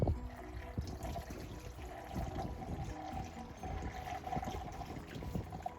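Water is poured into a tube, a soft continuous trickle and gurgle with small splashes, fairly quiet and steady over several seconds, with no voices.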